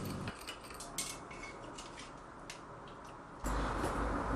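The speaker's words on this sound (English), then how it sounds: "you take a fork and put holes on the skin side as much as possible" A fork clinks and scrapes against a pan while jabbing holes into the skin of cooled pork belly, with sharp metallic taps in a steady scatter, close up and alone, and a louder rumble at the end.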